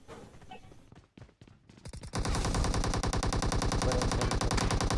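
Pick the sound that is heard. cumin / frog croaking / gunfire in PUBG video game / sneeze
gunfire in PUBG video game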